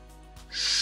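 A single owl hoot sounds alone, short and fairly clear, followed by a breathy hiss that swells toward the end.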